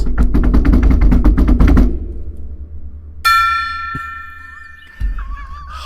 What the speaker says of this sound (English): We just got that gong.